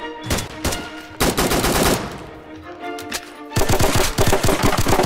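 Rapid automatic gunfire in a multiplayer shooter game, loud close bursts of machine-gun fire with brief pauses between volleys, ending in a long, dense stream of shots, with no talk over it.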